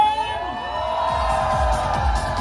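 Spectators at an amateur men's physique bodybuilding competition in India shout and cheer, a sustained swell of crowd noise and whoops over a thudding low beat and a droning tone.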